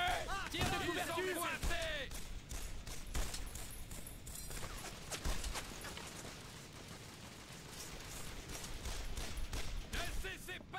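Covering fire in the Brothers in Arms: Road to Hill 30 World War II shooter on PS2, a dense, continuous fusillade of rifle and machine-gun shots rattling throughout, with shouted voices over the gunfire.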